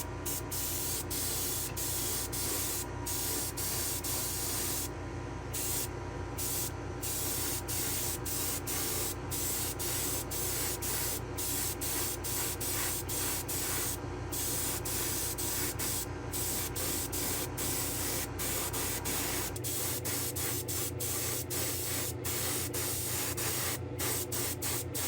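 Clear coat is sprayed from a spray gun onto a diecast 1954 Chev pickup model body in a spray booth, a steady soft hiss broken by short pauses between passes, quiet and close, with no talking.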